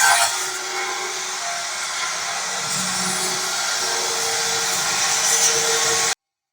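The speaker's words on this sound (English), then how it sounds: "The compressor is currently running very smoothly." An air compressor runs at an autonomous power station, a steady loud broadband whir holding level for about six seconds before cutting off abruptly, with no voices.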